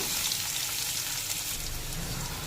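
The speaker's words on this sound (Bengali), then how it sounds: "পেঁপে আর আলু একটু ভেজে নেব।" Long-cut papaya and potato pieces sizzle in hot oil seasoned with cumin and salt, a dense, even crackling hiss up close with faint stirring underneath.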